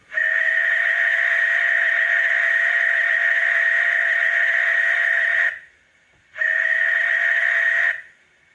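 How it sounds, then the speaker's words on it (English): A model Pannier tank locomotive gives a long, steady whistle tone for about five seconds, stops briefly, then returns for a shorter second blast; shrill and somewhat electronic, with no talking. "13, a long whistle."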